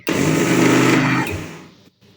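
A mixer grinder whirs through soaked dosa batter in a single loud burst of about a second and a half, then winds down and cuts off; no talking.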